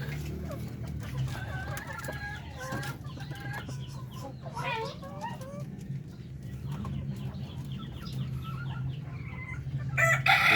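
Darag native chickens in a pen on a farm in Zaragoza, Nueva Ecija, clucking and crowing close by in repeated overlapping calls, a rooster's crow standing out over steady low background noise.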